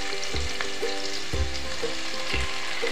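Tomato pieces sizzle in a frying pan while egg biryani is being cooked. The frying hiss is steady and close, broken by a few regular clinks and scrapes of stirring, with no voices.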